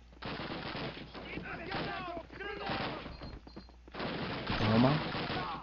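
Gunfire rattles in Call of Duty, a World War II shooter game, in repeated bursts of shots mixed with game noise while someone talks over it.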